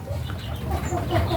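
Hens cluck softly in short, scattered calls over a steady farmyard hum, close by, with no talking.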